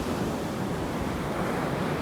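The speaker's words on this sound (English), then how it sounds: "Looking at the ocean waves, admiring the dunes." Ocean waves washing onto a shore beside sand dunes, a continuous rushing surf mixed with buffeting wind across the microphone, steady and fairly close, with no one speaking.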